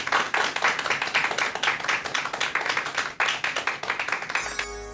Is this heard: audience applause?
yes